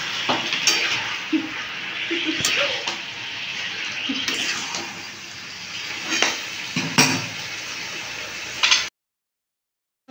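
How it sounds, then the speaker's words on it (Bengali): Chicken pieces are stirred in a frying pan for chili chicken, with a low sizzle under repeated sharp clanks and scrapes of a utensil against the pan, ending in abrupt silence. "এর মধ্যে আমি চিকেন মনে দিয়ে দেবো। আমি নেড়ে নেবো ভালো করে।"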